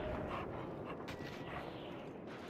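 A dog in the Mad Max video game makes soft panting and whimpering sounds up close, set against a steady, dense wash of game ambience.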